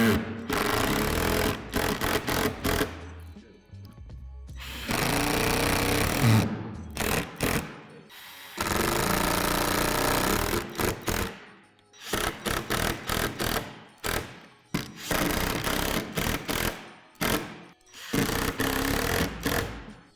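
A power drill drives screws into plastic panels of a Lifetime 80-gallon rotating composter, with long whirring runs broken by short pauses and quick bursts, loud and close.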